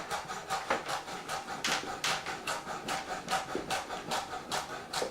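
A knife slices celery into thin diagonal pieces on a cutting board, producing a quick, steady series of crisp chops repeating close and clear with no talking.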